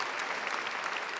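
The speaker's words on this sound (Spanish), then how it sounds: "un aplauso por anticipado" Steady audience applause for an opera singer at a talk on Mozart's Don Giovanni at Les Arts, a dense, even clapping from a full room with no breaks across the short span.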